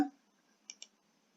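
Computer mouse clicking while selecting a Bitcoin payment option on a deposit page: two quick, close clicks a moment apart in a quiet room, after a brief faint noise at the start.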